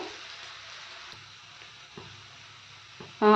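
Onions frying in a pan for Tamil kuzhambu, a soft, steady sizzle with a few faint stirring knocks and a louder clatter right at the end.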